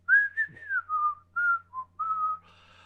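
A person whistles a jaunty, folky tune alone, a clear, close melody of several sustained and gliding notes with brief pauses between phrases.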